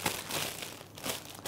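A Ziploc plastic bag crinkles and rustles steadily as icing slurry for hot cross buns goes into it, a close, continuous crackling with a few louder crunches.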